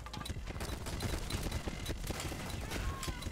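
An F2 rifle fitted with an extended barrel fires rapid, continuous bursts in a competitive shooter match, a dense run of sharp shots through the whole clip, with no voices.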